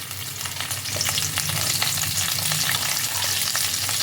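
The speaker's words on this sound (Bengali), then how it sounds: "তেলের মধ্যে সবজিগুলোকেও আমি হালকা করে ফ্রাই করে নেব।" Potatoes and cauliflower frying in oil for navratan korma, a loud, continuous close sizzle with crackling and stirring and no voices.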